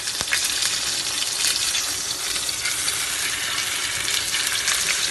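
Salmon fillet frying skin side down in olive oil produces a constant close, bright sizzle and crackle that stays dense and even, with no voices over it.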